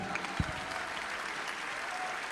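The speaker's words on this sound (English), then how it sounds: "everybody, a round of applause for our me'e kolu" A convention audience applauds in a standing-room-only hall, a steady, dense wash of many hands clapping that holds evenly throughout, heard from within the crowd with no clear voices above it.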